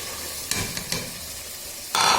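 Black chickpeas frying in oily masala in a pan, a steady sizzle with a few scraping stirs of a spoon and a louder sizzling surge at the end.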